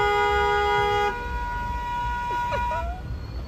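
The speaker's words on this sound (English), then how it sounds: "Why do you guys honk in New York so much?" Car horns honk in New York street traffic: a long, loud horn blast is followed by shorter overlapping toots from other vehicles over a low rumble of city noise.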